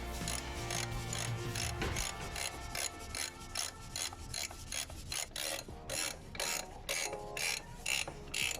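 Rapid ratchet clicks come from tightening the front brake caliper bolts on a C4 Corvette during a rotor and pad replacement, the mechanical clicking in steady bursts, close and fairly loud, with no voices.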